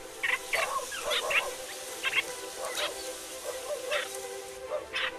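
Stray dogs bark and yip repeatedly near reedbeds, short bursts in an uneven rhythm at moderate distance over a steady background hum.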